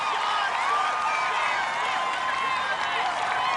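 A dense studio crowd cheers and applauds at an obstacle-course competition, a steady roar of claps and shouts holding at full volume throughout with no gaps, while an announcer's voice carries over it.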